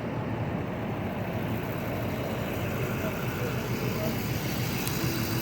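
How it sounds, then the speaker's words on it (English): Steady traffic rumbling across a bridge, a continuous moderate wash of car and engine noise with no distinct pass-bys, heard from close by. "I can hear more traffic coming up alongside of me"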